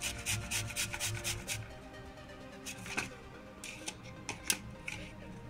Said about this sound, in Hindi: और ये हमने दोस्तों कद्दूकस ले लिया है, घिया का जिसे हम कहते हैं, और उस पर हम इसे धीरे धीरे घिसकर इसका